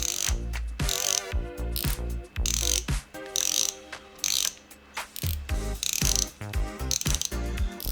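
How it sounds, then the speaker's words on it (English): The drag clicker on a Daiwa Tatula 80 baitcasting reel ratchets in rapid bursts of sharp, loud clicks, close up, with short pauses between runs as the line is pulled and no talking. "It's a very positive sounding drag clicker, but it's not harsh sounding."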